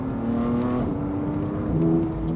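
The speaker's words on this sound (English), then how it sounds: "It makes your car feel very, I don't know, race car again, going through the gears here." Tuned BMW M4 with a ZF8 automatic gearbox and Stage 2 tune accelerates through its gears, engine tone rising, dropping at a quick upshift, then climbing again, heard from inside the car with no talk.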